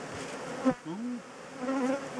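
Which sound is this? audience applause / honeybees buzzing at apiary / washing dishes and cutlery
honeybees buzzing at apiary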